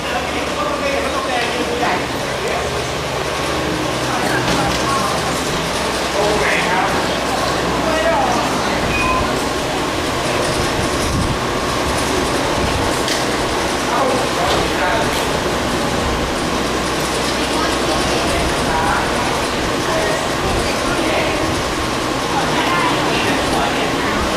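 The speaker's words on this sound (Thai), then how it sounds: "ต่อไปเราก็ นั่งรถไฟไปชมสัตว์ข้างในกันเลยนะคะ" A rumbling ride on a small tourist train at Nakhon Ratchasima Zoo, Thailand, steady engine and rolling noise throughout with people talking over it.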